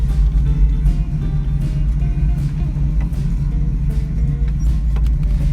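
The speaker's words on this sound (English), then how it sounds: "Parallel parking like a boss." A 1967 Ford Mustang coupe idles and creeps along while parallel parking, a loud, steady low engine rumble close by with faint ticking above it.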